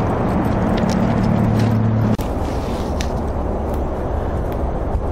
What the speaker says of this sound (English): we got cars to the left and the freeway to the right, so it's very noisy down here